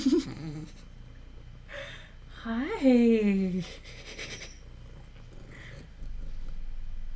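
A cat purring close into a microphone, a soft rumbling purr heard in short bursts between a woman's quiet speech and some breathy vocal sounds.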